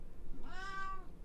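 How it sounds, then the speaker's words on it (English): A single clear meow from a cat, close and mid-loud, rising and falling over about half a second. "She's probably gonna keep meowing"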